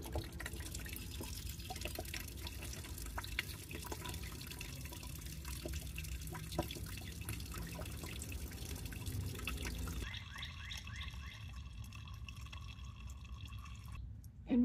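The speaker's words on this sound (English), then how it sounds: "I'll place this bucket underneath it to catch the old antifreeze when it runs out and open it up." Old antifreeze draining from a valve under the bench seat of a Scamp trailer into a bucket, a faint continuous trickle and drip that thins out toward the end, with no voices.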